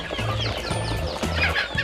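Chickens on a farm of roughly eight hundred birds cluck and chatter close by, a busy overlapping run of short clucks and calls filling the whole brief stretch.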